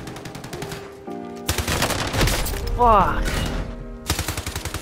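A heavy gun fires bursts in a video game: loud, rapid automatic shots that start, break off and resume amid other game sounds, while a man swears briefly over it.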